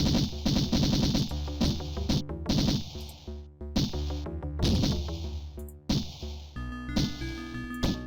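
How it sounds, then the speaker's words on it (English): Gunfire crackles in Syndicate 1993, loud repeated bursts of retro game shots in quick clusters separated by short gaps, with no speech over them. "Shotguns are pretty good, huh?"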